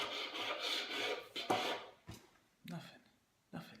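A hand scraper rasps across a high-build coat of dried Whitsons adhesion primer in a few short, close strokes, with someone talking over and between the scrapes.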